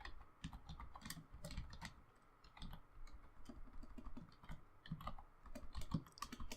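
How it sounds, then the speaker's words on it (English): Computer keyboard typing runs steadily throughout, a close stream of irregular clicky keystrokes at low level with brief pauses. "If I could type, this would even say what I wanted it to."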